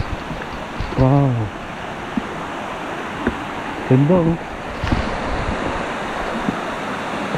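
Water flows steadily into a pool on a mountain stream on Mt. Kinapuin, a constant close rushing wash, with brief exclamations from people talking over it.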